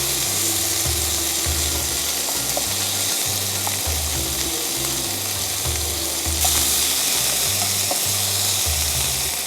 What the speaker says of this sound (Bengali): এটা হচ্ছে হালকা একটু আমি ভেজে নিব আগে।